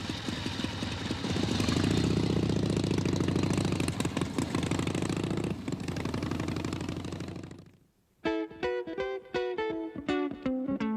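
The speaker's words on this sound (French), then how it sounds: "La Harley, c'est le bruit unique du V-Twin, le moteur bicylindre en V." A Harley-Davidson motorcycle engine rumbles steadily, cuts out briefly, then idles with an uneven, loping V-twin beat of separate thumping pulses, close by.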